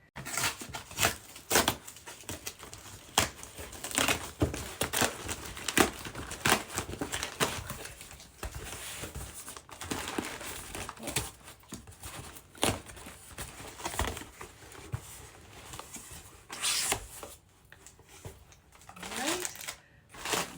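Plastic and paper packaging torn open and crinkled around a set of paperback books, repeated close rustling, ripping and crumpling noises with talking mixed in.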